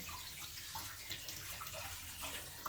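Paragis grass is rinsed under running tap water, a steady close splashing stream with no voices over it.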